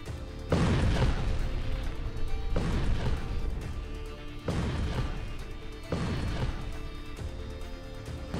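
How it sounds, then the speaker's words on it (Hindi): A Turkish super bunker buster bomb bursts through thick concrete in a series of heavy, booming blasts, each sustained rumbling roar cutting off and restarting about every one to two seconds, loud and close. "तुर्की का यह super bunker buster bomb 7 metre की कंक्रीट को भेद कर आगे बढ़ता है और फिर धमाका"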